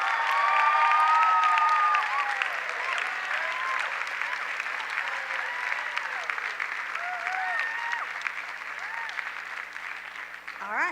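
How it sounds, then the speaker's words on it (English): A chapel audience applauds honors students in their majors, sustained clapping that swells at first and then settles into a steady ovation, with a voice over the speakers and some cheering. "Another round of applause for the honors in the majors, folks."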